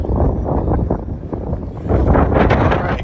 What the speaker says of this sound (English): It's a little windy, I'll try and speak up.